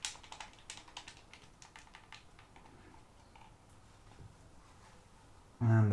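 Buttons on a PS5 DualSense controller clicked in quick irregular bursts, faint and close, ending with a brief loud bump.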